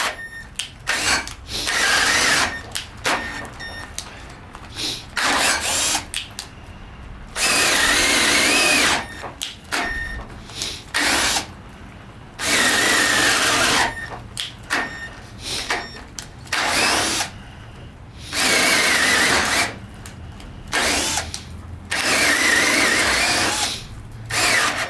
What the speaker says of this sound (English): We're gonna drill 6 holes just like we just did.